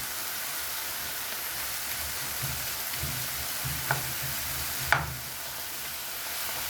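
Seguidillas (dragon beans) sauté with minced pork and seasonings in a hot pan, a steady frying sizzle running throughout with a couple of sharp stir clatters near the end, no voices.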